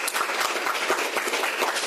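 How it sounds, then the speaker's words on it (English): Audience applause at a community breakfast meeting, with many people clapping in a steady, close, fairly loud burst for about two seconds. "Let's give him a round of applause for that."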